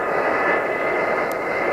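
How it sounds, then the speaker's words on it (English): A loud, steady F-4 jet engine run-up roar fills the air, a dense broadband rush with a high whine, sustained at full power without pause. "likes to hear an F-4 engine run up"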